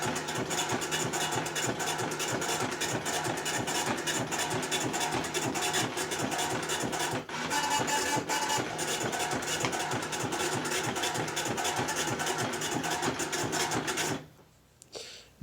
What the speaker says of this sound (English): We're now going to print all the default settings.